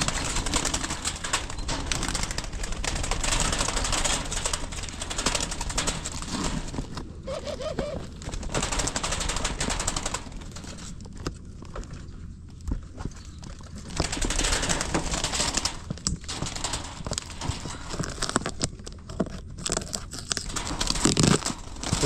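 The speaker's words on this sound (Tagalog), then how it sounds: "So ito yung mga ibon natin." Caged birds, including native birds, coo and flutter in a steady noisy outdoor setting, with occasional rustling and faint calls throughout.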